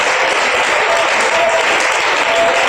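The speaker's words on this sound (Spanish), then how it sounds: "Aplauda por favor su presencia en esta noche." A church congregation at an evening service applauding together, a dense, loud, sustained wash of clapping throughout.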